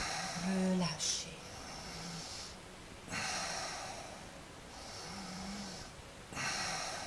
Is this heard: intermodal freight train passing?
no